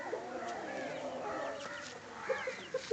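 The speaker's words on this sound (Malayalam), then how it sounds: "ആ കോഴി" A chicken clucks in short, soft calls against a dense background of other faint bird and farmyard sounds, with a few clearer clucks near the end.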